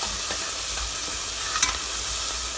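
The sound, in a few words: stirring beef curry sizzling in a pan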